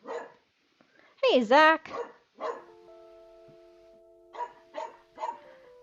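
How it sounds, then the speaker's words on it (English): A loose neighborhood dog barks a few times at a distance down the street, short sharp yelps spaced apart, while a person calls out and talks nearby. "there's a dog loose"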